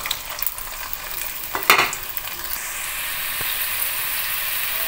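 Potatoes dropped into hot oil for dum aloo, a sharp burst of frying crackle as they hit the pan, then a steady close hiss of oil sizzling without any talk.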